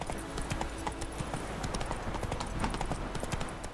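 Roach the horse's hoofbeats in The Witcher 3, a steady clip-clop of hooves at a walk, close and continuous, with a faint whinny and ambient game sound beneath.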